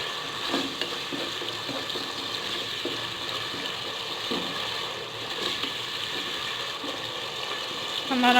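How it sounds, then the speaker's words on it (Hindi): Lobia dal masala fries in a pan over low heat, a soft continuous sizzle with occasional stirring clicks, fairly quiet and close, no talking. "अब हम इसको ज़रा भून लेंगे।"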